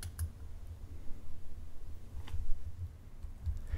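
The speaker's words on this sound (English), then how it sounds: "you can do so by clicking in the upper left corner here" Soft, faint mouse clicks at a computer while working in a spreadsheet, a few isolated ticks spread over a quiet background hum with no talking.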